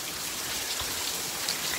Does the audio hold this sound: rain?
yes